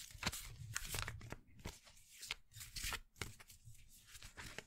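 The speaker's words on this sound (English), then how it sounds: "as I shuffle these cards" Playing cards shuffled during a mystic's love reading, with repeated crisp riffling bursts and soft papery flicks, close and fairly quiet, alone without any voices.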